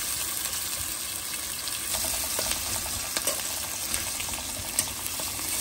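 Chopped onions fry toward golden brown in a pan, giving a continuous close sizzle with scattered crackles and light stirring clicks; no one speaks.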